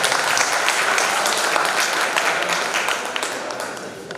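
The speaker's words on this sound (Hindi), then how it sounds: "तालियों का वॉल्यूम भी बढ़ाएं।" Audience applause fills a poetry gathering at a kavi sammelan, a dense, steady wash of clapping from a crowd that slowly thins toward the end, with no voices over it.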